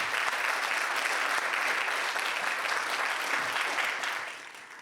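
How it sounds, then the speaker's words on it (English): An audience at a Black church forum on mass incarceration applauds the evening's panelists, with steady, full clapping that holds for about four seconds before tapering off. "Let's give all of our panelists for this evening a round of applause"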